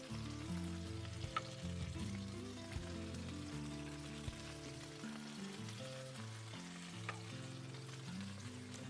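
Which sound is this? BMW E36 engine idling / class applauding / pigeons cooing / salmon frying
salmon frying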